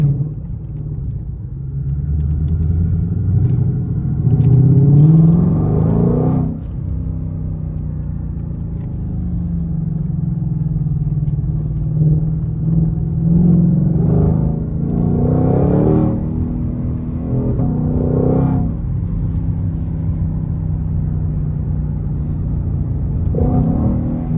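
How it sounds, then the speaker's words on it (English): A Ford Shelby GT500 engine rumbles and blips its revs in repeated surges as it downshifts with rev matching, loud and close with deep rumbling between the rising revs. "That's me pushing the gas pedal. I'm not touching that brake. It's downshifting."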